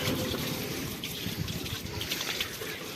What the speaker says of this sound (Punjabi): ਤੇ ਹੁਣ ਪਾਣੀ ਮਾਰ ਦਈਏ